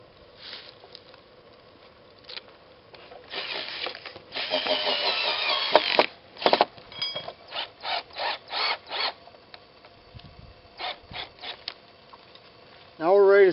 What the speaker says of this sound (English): Now what I also use is a portable screw gun.